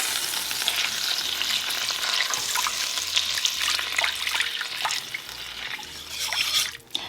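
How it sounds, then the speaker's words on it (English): Water being poured and whisked into a tomato paste and pepper paste sauce in a pot, a continuous wet splashing and stirring with light sizzle-like texture, close and fairly loud. "Now I'm gonna add about 2 to 3 cups of water."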